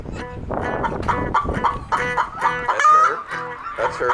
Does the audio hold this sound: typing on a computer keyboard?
no